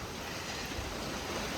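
A strong wind blows and carries dust, making a loud, constant rushing roar that buffets the microphone for the whole stretch, with no voices.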